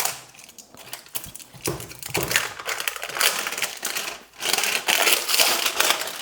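Packaging of a heavy induction heater tool being unboxed: close crinkling, crushing and rustling of cardboard and wrapping, irregular bursts and scrapes with brief pauses, no talking.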